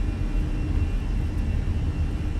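A Fenix A320 airliner in Microsoft Flight Simulator throttles up to takeoff power, producing a loud, steady engine roar and broadband rumble that fills the short stretch without talk.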